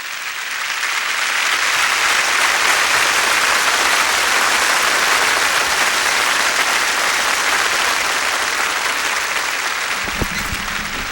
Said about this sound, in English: I was socializing and I heard the claps.